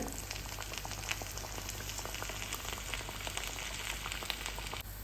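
Vadiyan (thick lentil dumplings) frying in hot oil in a home kitchen, a steady dense sizzle and bubbling crackle running continuously at close range with no talking.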